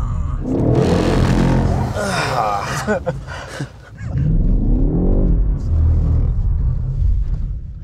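A BMW M8 Competition with 625 hp surges at full throttle, a deep rumbling roar swelling, dipping briefly mid-run and then building again, heard from inside the cabin with people talking and exclaiming over it.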